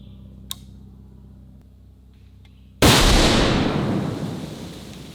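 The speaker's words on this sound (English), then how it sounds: "first we're gonna fire a round into the hill with nothing beside it" A .50 caliber rifle fitted with a muzzle brake fires a single round into a hillside, a sudden, very loud close blast that rolls into a long, slowly fading rumble after a quiet stretch.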